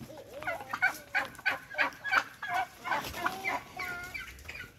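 Chickens cluck steadily inside a chicken coop, a dense overlapping chorus of short repeated calls from several birds at close range with no talk over them.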